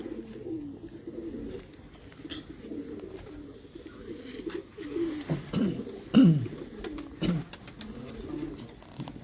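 Golden pigeons in a Karachi loft coo close by in low, throaty, repeated calls that overlap unevenly, with a few louder bursts among a soft background murmur.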